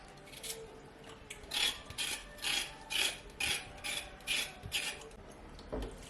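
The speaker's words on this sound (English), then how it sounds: "Scrape off the back. I'm using a knife to do that." A knife scraping the skin off a carrot in a kitchen, in a run of about eight rhythmic rasping strokes, close and fairly quiet, with no talking.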